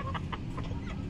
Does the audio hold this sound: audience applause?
no